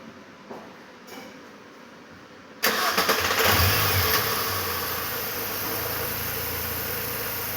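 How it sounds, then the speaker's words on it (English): A 2008 Mini's engine cranks and catches after a couple of quiet seconds, revs briefly with a loud surge, then settles into a steady close idle. "So I'm going to start the engine up."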